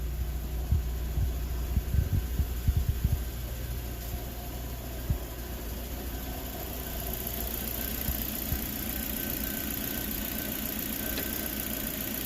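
A Dodge Neon engine idles steadily after a head gasket replacement, a continuous mid-pitched running hum with a few light ticks early on, close by and without talk.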